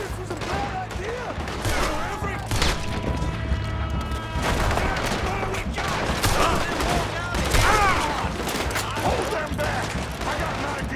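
Rapid gunfire shootout in the Western video game Red Dead Redemption 2, with dense overlapping shots and booms in a sustained fusillade, as characters shout over the shooting.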